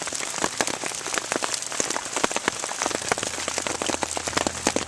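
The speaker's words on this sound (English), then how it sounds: "Not just is it raining, but there's large pieces of ice falling out of the sky." Rain and large hailstones fall steadily outdoors in Wyoming, a dense continuous patter of sharp close impacts with no talk.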